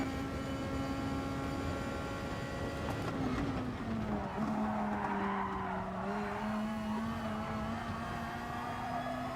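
A Gr.2 race car in GT Sport at Catalunya drones under load, its engine note dipping and climbing through a gear change, with a continuous tire-skid hiss running beneath the steady, moderately loud engine tone.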